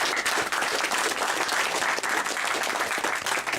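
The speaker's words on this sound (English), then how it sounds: "Quick round of applause." Wedding guests give a quick round of applause, a close, full burst of many hands clapping at even loudness with no voices over it.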